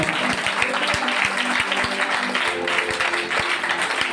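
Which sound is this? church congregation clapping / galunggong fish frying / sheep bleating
church congregation clapping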